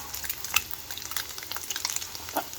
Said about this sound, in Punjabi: ਹੁਣ ਇਹਨਾਂ ਨੂੰ ਇਹ ਤੇਲ ਦੇ ਵਿੱਚ ਪਾ ਕੇ ਸ਼ੈਲੋ ਫਰਾਈ ਕਰ ਲੈਣਾ